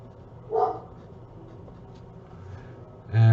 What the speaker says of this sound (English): You might hear my dog barking out the window.